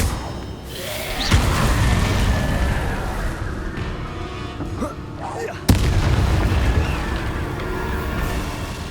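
Confringo and Incendio spell explosions in the Hogwarts Legacy video game: two sharp, loud blasts, one early and one later, burst out of a dense, steady rumble of game noise.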